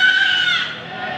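Goats being unloaded for sale at a livestock market, with a strained bleat-like call sustained across the whole moment, near and fairly loud, and steady crowd and yard noise underneath.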